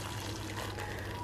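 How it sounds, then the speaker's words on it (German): Hot water poured or running over almonds set to soak, a steady continuous liquid rush that stays even and fairly close for the whole moment, with no talking. "Dazu muss ich eben jetzt die Mandeln in heißes Wasser einlegen."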